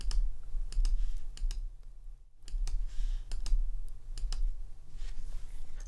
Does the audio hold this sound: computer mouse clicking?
yes